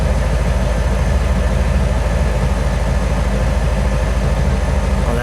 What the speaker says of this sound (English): let me let you listen to that idle